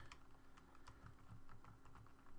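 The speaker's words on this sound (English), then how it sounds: "hit all the magic keys on my keyboard to get all the right stuff up" Fingers tap a computer keyboard in quick, irregular bursts of clicks, faint and close, over a low steady background hum with no talking.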